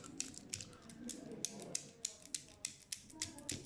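Old German tortoiseshell-style prayer beads click together as they are handled, making a quick run of sharp, light clacks close by in an uneven rhythm.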